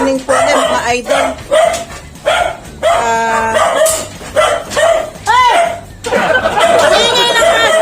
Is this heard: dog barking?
yes